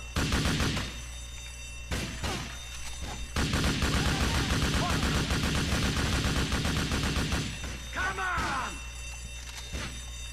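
Gunfire in the video game Grand Theft Auto IV, loud bursts of rapid automatic shots and repeated single cracks coming in dense volleys with short breaks, plus a brief chirping tone near the end.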